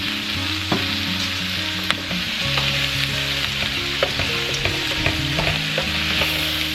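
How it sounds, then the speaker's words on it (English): Minced onions fry with cabbage and potatoes in a pan, a loud, close, continuous sizzle with stirring clatter and scraping layered over it. "And then we're going to add some minced onions."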